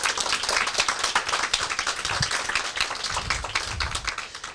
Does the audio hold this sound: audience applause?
yes